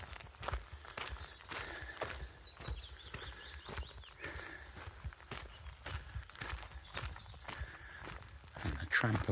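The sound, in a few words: footsteps walking on a forest track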